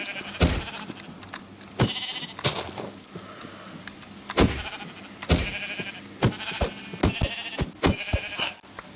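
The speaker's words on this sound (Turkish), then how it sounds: "Oo bayağı Koyun" Several sheep in the video game Minecraft bleat in a string of close, fairly loud calls, mixed with sharp in-game clicks and thumps and no talking.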